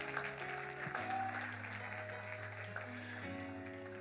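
Church congregation applauding, a steady wash of clapping that holds at an even level for the whole stretch, with a sustained organ or keyboard tone underneath.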